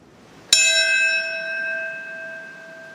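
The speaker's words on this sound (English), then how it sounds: "The ceremony began this morning at Ground Zero with tolling bells and a moment of silence." A single bell strike rings out at a September 11 memorial ceremony at Ground Zero, its long, clear tone sustaining and slowly decaying alone in a quiet setting.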